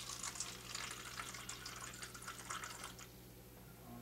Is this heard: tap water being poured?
yes